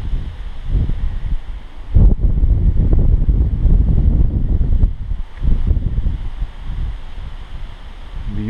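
Wind buffets the microphone outdoors while a scratch-built Dollar Tree foam board RC airplane flies, a loud, continuous low rumble with gusty surges throughout and no talking.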